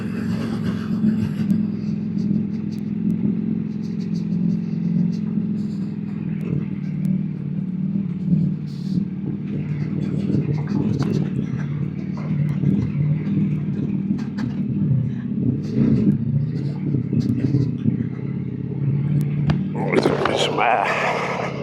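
A Ducati V4 Pikes Peak motorcycle rumbles over rough off-road ground, its engine a steady low drone that rises into a revving surge near the end, while the rider talks over it throughout.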